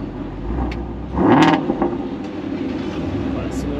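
A Shelby GT350 with its exhaust valves opened gives a short, loud engine burst that swells and fades into a low idling rumble, with voices talking nearby.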